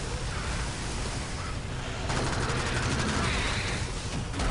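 Loud, continuous rapid gunfire in the video game Alien Swarm, with a harsh, compressed game-audio quality, growing denser partway through as bursts overlap.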